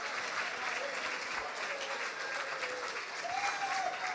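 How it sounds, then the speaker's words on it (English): Audience applause at a hackathon closing ceremony in Prague, a dense, steady clapping from a large crowd that holds even throughout. "give yourselves a massive round of applause"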